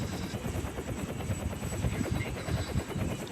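Helicopter in a video game, a steady low rotor chop and engine roar running continuously at moderate loudness, with no talk over it.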